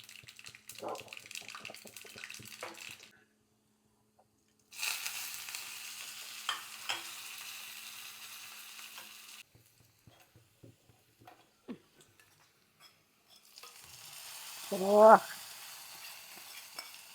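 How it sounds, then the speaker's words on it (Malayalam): Mustard seeds splutter and sizzle in hot oil in a pan, a steady hiss with scattered pops, stopping and starting in separate bursts, near and moderately loud. "കുറച്ച് കടുക് അവിടെ കിടന്ന് പൊട്ടട്ടെ"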